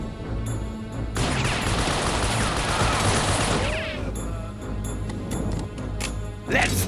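German soldiers firing in the World War 2 strategy game Soldiers: Heroes of World War 2, a sustained roar of massed gunfire and crashing impacts lasting several seconds, loud and dense, with scattered sharper shots before and after.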